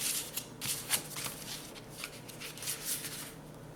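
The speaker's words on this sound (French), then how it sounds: "je vais aller faire mon pli comme ceci" Sheets of scrapbooking paper are handled and creased to fold an accordion folio, giving soft, close rustling and crisp papery swishes with a few sharper crinkles, steady and fairly quiet throughout.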